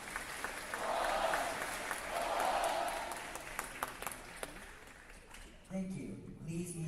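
An audience at a Veterans Day assembly claps for veterans' family members, with broad, sustained applause rising and falling before tapering off as a voice begins speaking at the end.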